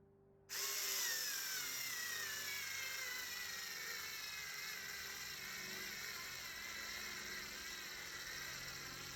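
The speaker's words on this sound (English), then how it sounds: "I'll show a little bit of footage of driving in 3 different sizes of screws" Ryobi Ergo pocket screwdriver starting abruptly and whirring steadily at close range as it drives a screw, a continuous high motor whine that slowly strains and drops in pitch.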